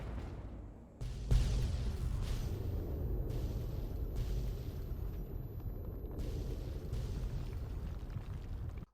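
A mansion blows up in Fallout 3: a sudden heavy blast followed by a sustained rumbling roar with repeated bursts of debris and crackling layered on top, loud and continuous until it cuts off.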